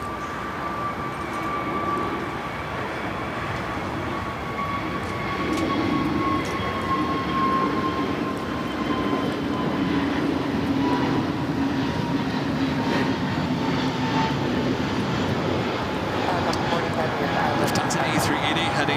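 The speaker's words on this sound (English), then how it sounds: "United 1312, on out of Doctor, runway 25 right, clear for takeoff" A United airliner taking off from runway 25 right at LAX, a steady, loud roar of engines that holds for the whole stretch with a faint rising whine, recorded from a distance.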